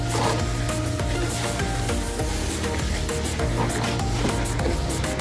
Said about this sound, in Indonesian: kalau sudah dicampur dan air ini kita aduk ya biar rata.